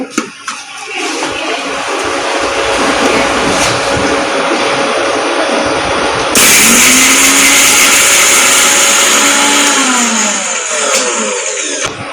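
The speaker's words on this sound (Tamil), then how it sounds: "இதோட தேங்காய், 3 முந்திரி பருப்பு, கொஞ்சம் சோம்புக்கும் போட்டு அரைக்க வேண்டியதுதான்." A mixer grinder runs loud and close, grinding coconut, three cashews and fennel seeds for a curry paste. It whirs steadily, then jumps to a higher, harsher pitch midway and winds down near the end.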